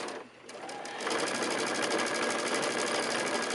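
A sewing machine stitches fabric for a drawstring bag, starting after a brief pause and running in a rapid, even mechanical chatter close by.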